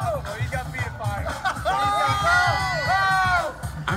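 A crowd cheering and whooping at an event, with rising excited shouts and voices layered over a busy hubbub, fairly loud and close throughout.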